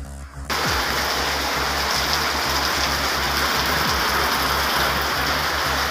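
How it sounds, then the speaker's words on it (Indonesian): Steady heavy rain pours onto and around a Perodua Alza, a dense continuous hiss that holds loud and even throughout, with faint low rumbles underneath and no talking. "Ada hujan."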